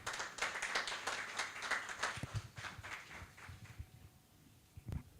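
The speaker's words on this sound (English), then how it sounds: "A round of applause for him, please" A small group in a National Assembly hearing claps for an arriving speaker, a scattered run of hand claps that thins out and fades, followed by a couple of isolated knocks near the end.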